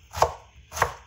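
Two crisp knife strokes cut through bitter gourd (karela) on a board, each a sharp close thud with a short tail, spaced about half a second apart with no talk.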